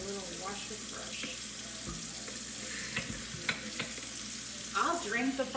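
Water splashes and scrubs as a bottle is brushed and rinsed, with sloshing and clinking bursts over a steady running-water hiss.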